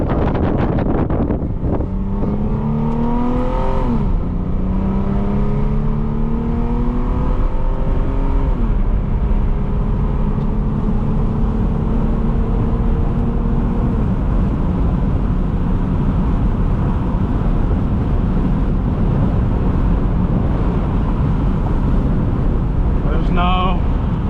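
Lexus IS250 with crash damage to the panel and fender liner out on a test drive, engine note rising and shifting through gears in steady pulls, with wind and road roar throughout.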